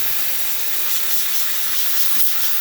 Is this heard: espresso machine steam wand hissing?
yes